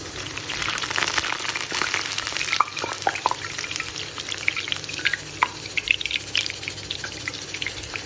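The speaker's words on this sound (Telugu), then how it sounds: "ఆయిల్లో వేసిన పూరి చూడండి" A puri fries in hot oil with soft bubbling and scattered crackling pops, fairly quiet and close.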